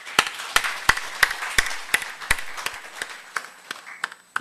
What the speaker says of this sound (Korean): 우리 서로를 위해서 정말 한번 격려의 박수를 보내기 바랍니다